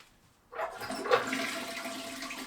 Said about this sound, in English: I forgot to flush.